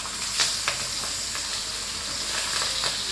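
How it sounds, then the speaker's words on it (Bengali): Hilsa fish fry in hot oil in a pan, a steady loud sizzle with faint stirring scrapes and pops, close up and continuous, with no talking. "এই যে এখন মাছগুলো ভালো করে ভাজা তারপরে রান্নাটা করব"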